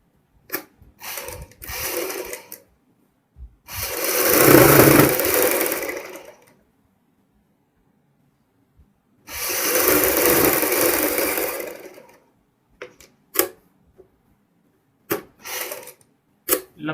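A sewing machine stitches a zip onto a kurti for a high neck back-zip design, running in two sustained bursts of a few seconds each, broken by short clicks and handling knocks between them.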